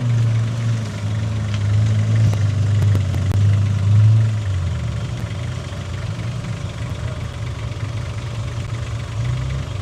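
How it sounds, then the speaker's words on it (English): An off-road car's engine idles on a rocky creek track, a loud, steady low rumble that shifts in pitch partway through, then settles into a rougher, uneven idle. "another car coming up the creek"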